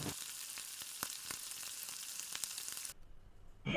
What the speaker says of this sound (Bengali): করে কষিয়ে নেবো যতক্ষণ না মশলা থেকে তেল ছাড়ে।